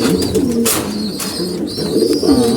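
Pigeons kept in a loft coo loudly and continuously up close, low rolling calls overlapping with a few brief rustles.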